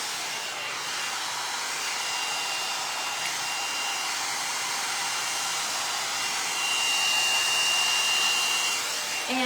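A hair dryer blows steadily and close while short hair is styled into a 90s blow-out, a continuous airy whoosh with a slight shift in pitch near the end.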